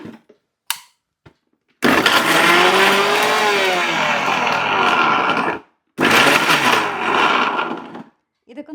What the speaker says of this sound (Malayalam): ഇനി ഇതെല്ലാം കൂടി മിക്സിയുടെ ജാറിലിട്ട് നന്നായിട്ട് പേസ്റ്റ് ആക്കുക